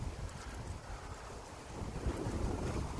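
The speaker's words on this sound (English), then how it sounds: "See, the wind just picked up really, really strong." Strong gusting wind buffets an outdoor microphone during a radio-controlled plane flight in bad weather, a low rumbling roar that swells louder toward the end, with no talk.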